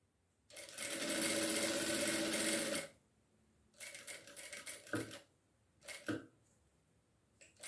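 A sewing machine stitches a fabric pencil case, with one long continuous run of stitching followed by several short bursts as it backstitches at the ends.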